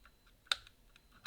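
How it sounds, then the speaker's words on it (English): Small, sharp metallic clicks tick inside a Chubb 114e lever lock as a pick works a lever, a few light taps followed by two crisper clicks, quiet and close. "Got a little click, and you can hear it clicking."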